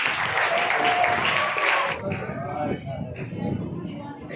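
Applause breaks out at a teachers' debate event in Bhiwandi to welcome the evening's chairman, Najeeb Mulla, a dense burst of clapping for about two seconds that fades into crowd murmur and voices.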